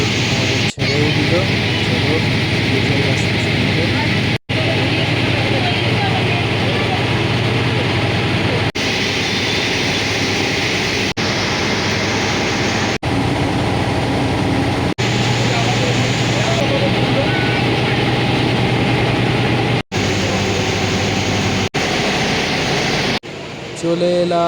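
Engine of a ferry launch crossing the river to Belur Math; a loud, constant low droning rumble running throughout with little change, close and unbroken apart from a few brief dropouts.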